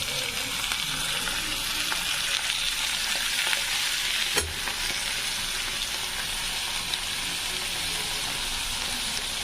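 Sliced bitter gourd and onion fry loudly in a pan, a dense continuous close sizzle with occasional stirring scrapes and one brief clunk, and no voices.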